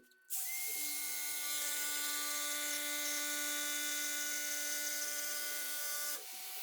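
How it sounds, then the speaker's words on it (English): A jigsaw running while cutting a toe kick: a steady, loud, high-pitched motor whine that starts abruptly, holds evenly for about six seconds, then stops, with no talking. "now I know that I can safely run this jigsaw"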